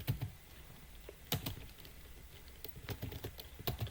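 Quick bursts of keystrokes on a computer keyboard while a command is entered in a Debian 12 terminal, with clustered clicks and short pauses, close and clear over a faint background hiss.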